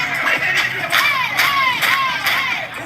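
A crowd cheers on a dancing girl, with shrill whoops and rising, falling shouts that keep coming over steady, loud background noise for about three seconds.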